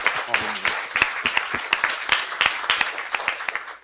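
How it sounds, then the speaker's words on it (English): Audience at a humanities festival panel discussion applauds steadily, a dense wash of many hands clapping with sharp individual claps standing out, loud and close, filling the room for several seconds before cutting off. "So can we all give her a round of applause?"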